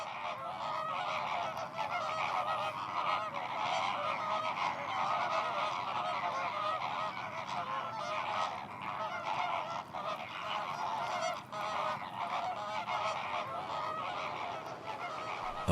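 A large flock of geese honks continuously at a wetland lagoon nature reserve in Corsica, a dense overlapping chorus of calls heard from a moderate distance.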